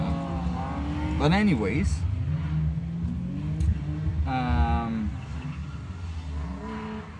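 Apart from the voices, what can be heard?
BMW E36 drift car engine revving high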